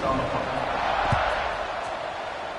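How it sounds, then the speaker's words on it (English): A stadium crowd in an American football video game roars in a steady, broad wash at kickoff, sustained throughout with a faint thump partway through. "They're set to kick it off, and this crowd now ready to get behind them"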